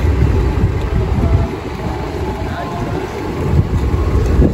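Large passenger ship Dharma Kartika VI at sea, a continuous broad engine drone mixed with wind buffeting the microphone, loud and steady throughout.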